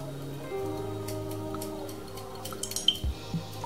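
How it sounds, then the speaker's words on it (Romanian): Olive oil is poured onto a cabbage and apple salad, a soft close trickle with a few light drips over faint background hum. "Adăugăm și ulei de măsline."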